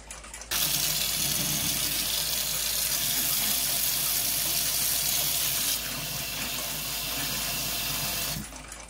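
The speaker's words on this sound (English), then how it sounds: "First, I'll use detergent to clean any grease and grime off." Watch parts are washed with detergent under running water, a steady splashing stream from a tap that starts abruptly, runs for about eight seconds with a slight drop in brightness partway through, then stops.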